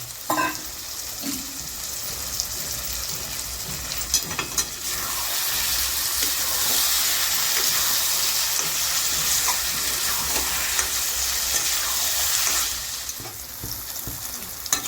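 Fried potatoes and tomatoes sizzle in hot oil for a Bengali aar fish curry, a steady hiss with scattered stirring clicks, loud and close throughout with no talking.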